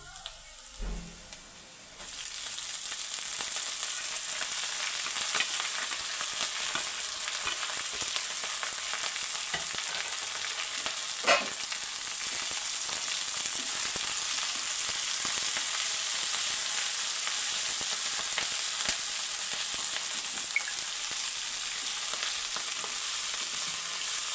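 Ponnaganti greens frying in a pan, a steady close hiss and crackle that starts abruptly after a brief quiet moment and runs on evenly, with occasional faint stirring clicks and no voices.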